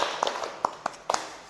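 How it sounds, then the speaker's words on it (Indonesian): A small group in a classroom session gives a few scattered claps, sparse and fairly faint: four or five distinct slaps rather than sustained applause. "Boleh tepuk tangan dulu untuk kita semua"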